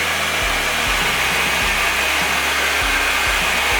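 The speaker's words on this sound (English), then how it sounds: "I'm going to use my blow dryer on cool to help dry this faster." A hair dryer on its cool setting blows steadily and loudly at close range, a constant rushing whoosh with a low motor hum that wavers slightly.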